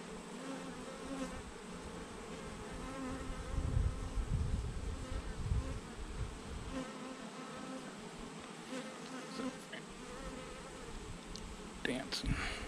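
Dense, continuous buzzing of many honeybees nearby, a steady drone swelling and fading slightly as insects move around.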